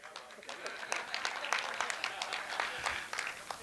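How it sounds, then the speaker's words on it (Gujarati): An audience at an Urdu and Gujarati poetry gathering breaks into steady applause, a dense patter of many hands clapping at moderate distance that continues throughout. "શોભિત, તાળી પાડ."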